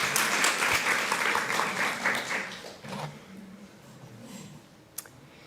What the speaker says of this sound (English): And we may applaud now.